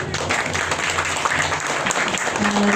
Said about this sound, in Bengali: আমি চাইছি একটা হাততালি হোক।